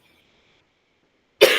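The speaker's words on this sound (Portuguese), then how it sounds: "Me deu uma tosse." A woman gives a single sharp, loud cough near the end, following more than a second of near silence.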